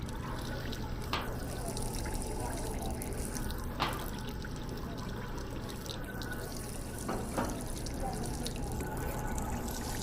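Running water pours steadily into a kettle, a constant close rushing with a few faint clinks in the background.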